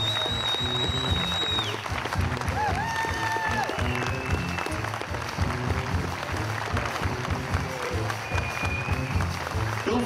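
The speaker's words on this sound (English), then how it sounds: "if you can give Jeff and Ed and Doug a big round of applause for me" An audience at an outdoor summer concert claps in a sustained, dense round of applause that carries on for the full stretch, with scattered whistles and cheers rising over the crowd.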